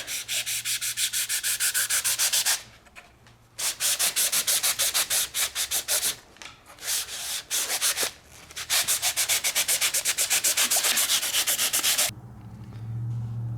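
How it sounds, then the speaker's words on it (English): Bare electric-knife blades are worked by hand through pop-up camper roof material, giving rapid rasping back-and-forth strokes in loud close bursts separated by short pauses. "Just using the blades off my electric knife that it broke, so I just took the blades off it. See if they'll cut it."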